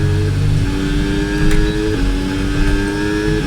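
Cadillac F1 car in the F1 26 video game at Bahrain, its engine droning loud and steady with stepped gear-change shifts in pitch under oversteer, continuous throughout without talk.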